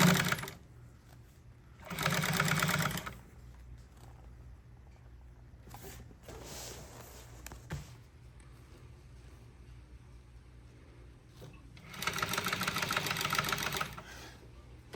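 A sewing machine fitted with a zipper foot stitches marine boat seat upholstery in two loud, close bursts of rapid needle chatter. Quiet handling noises fill the pause between them.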